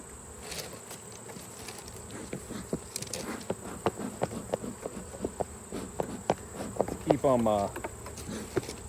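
Honeybees hum steadily around an open hive during an October inspection of combined hives, a close, continuous buzz with wingbeat whines rising near the end, and scattered ticks and taps of handling throughout.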